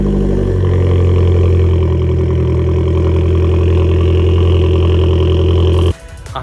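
An Abarth car's engine and exhaust drone at a loud, close, steady idle with a deep low rumble for about six seconds, then the sound drops away abruptly near the end.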